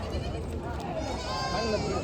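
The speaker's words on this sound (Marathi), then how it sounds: "इकडे बघा ही सगळी करडे आहे शेळ्यांची" Goats and young kids bleat repeatedly in overlapping calls at a busy livestock market in Maharashtra, with a crowd talking underneath.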